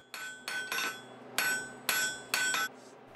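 A blacksmith's hammer strikes metal on an anvil, six sharp ringing blows in an uneven rhythm, close and clear with a short ring after each hit.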